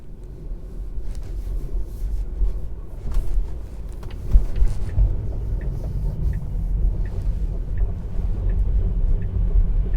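A Tesla driving itself on FSD Beta 10.10.2, heard from inside as a low steady road rumble and tire noise with faint clicks and soft ticking, calm and continuous.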